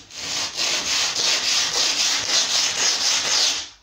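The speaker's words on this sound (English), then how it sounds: "This needs sanding just to remove the any little bits." The cut edge of a laminate kitchen worktop is sanded in quick, even back-and-forth strokes. The rasping is close and continuous, with no talking.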